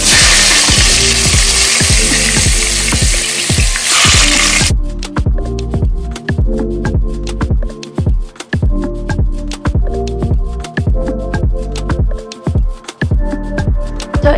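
Meat fries in oil in a pan, a loud close sizzle at first that gives way to a steady rhythmic run of scraping, clattering strokes as the meat is turned.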